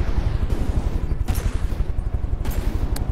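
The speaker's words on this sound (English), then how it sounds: "Firing that custom cannon," Custom cannon firing in a King of the Hill match in a video game, a rapid, dense fusillade of loud repeated shots with sharp bursts standing out, continuous throughout.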